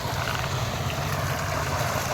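A farm irrigation pump set motor chugs along steadily while water is pumped to the field, a close, uninterrupted mechanical hum with no voices.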